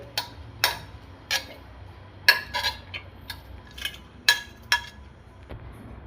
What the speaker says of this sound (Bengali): আমি মিক্সির বড় একটা বোল নিয়ে নিয়েছি নিয়ে আমি সব একসঙ্গে দিয়ে দিচ্ছি ফ্রুটসগুলো